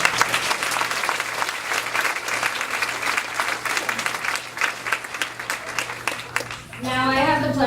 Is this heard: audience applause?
yes